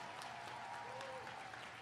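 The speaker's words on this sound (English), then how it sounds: "Let's give her another round of applause." Applause from a crowd at a 2022 Galileo High School commencement ceremony, a steady dense clapping that fills the whole stretch at moderate loudness, with faint voices mixed in beneath.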